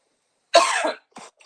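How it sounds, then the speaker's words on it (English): One loud, close, dry cough bursts out alone from silence, followed by two shorter, fainter coughs as someone reacts to pepper in the air while cooking. "I'm coughing and sneezing"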